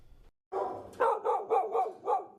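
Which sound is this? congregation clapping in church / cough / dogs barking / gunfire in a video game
dogs barking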